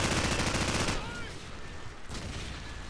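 Gunfire in a Modern Warfare video game starts as a dense, loud rattling burst for about a second. Quieter shots and game noise follow, with another brief flurry near the end.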